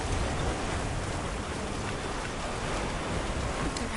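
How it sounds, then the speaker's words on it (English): Heavy rain pours down in the video game Monster Hunter Wilds, a dense, steady hiss of downpour that stays loud and unbroken throughout, with no talking. "The rain's really coming down."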